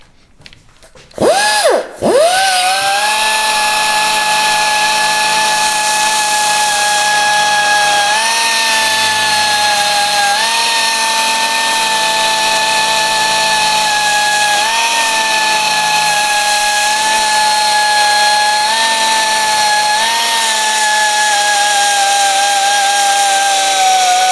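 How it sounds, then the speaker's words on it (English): A small abrasive belt grinder deburring and cleaning up a metal part runs continuously at high pitch, loud and steady with a strong whine and slight load dips, after a brief startup. "trying to deburr that, clean that up and see if it works"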